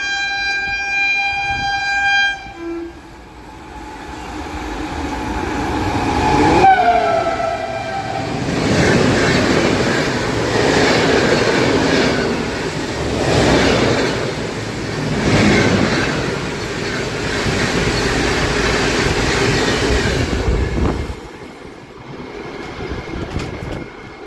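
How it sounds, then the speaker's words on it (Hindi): An Indian Railways Shan-e-Punjab Express hauled by a WP4 locomotive passes near Sarhad station, opening with a loud sustained horn, then a heavy roaring rumble of coaches and rhythmic wheel clatter for about fifteen seconds before cutting off abruptly. "भाई WP4 के साथ निकलती हुई शान पंजाब एक्सप्रेस।"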